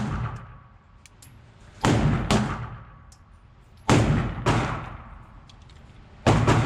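Three sharp pistol shots from an IWI Jericho 941 F at a shooting range, spaced a couple of seconds apart, each a loud close crack with a short decaying tail over quiet background.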